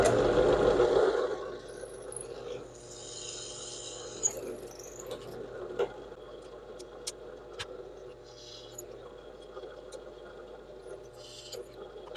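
A drill boring bolt holes in a five-blade propeller part, with a steady whirring motor hum that bogs and rises as the bit cuts, interrupted by a few short metallic clicks and clunks, close up with no speech.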